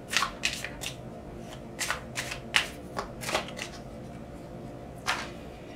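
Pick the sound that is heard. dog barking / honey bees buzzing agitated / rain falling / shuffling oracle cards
shuffling oracle cards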